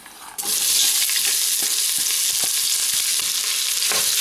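Garlic and onion hit hot olive oil at about 0.4 s and sizzle loudly and steadily from then on for a Mediterranean soup, with scattered stirring clicks and no talk.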